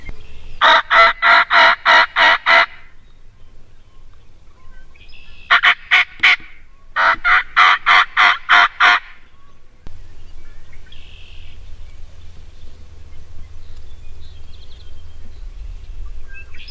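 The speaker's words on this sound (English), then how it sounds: "We've got some turkeys up ahead of us." Wild turkeys gobble ahead of hunters in bursts of rapid, rattling gobbles: a long run early, then two more close together midway, loud and fairly near, followed by quieter outdoor background.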